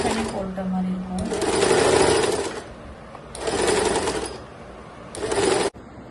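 A sewing machine stitches a kurti neckline in three loud, close bursts of rapid mechanical whirring, each several seconds long with short pauses between, while someone talks over it.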